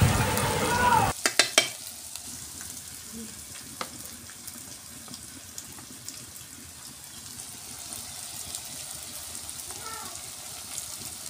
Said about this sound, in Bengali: আদাটা কিছুক্ষণ ভেজে নিতে হবে